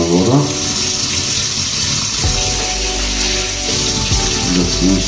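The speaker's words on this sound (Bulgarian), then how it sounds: "Може сега да го изплакнеме исто со хладна вода." Cold tap water runs steadily into a sink while a plate is rinsed, loud and continuous and close, with a clatter of dishware partway through.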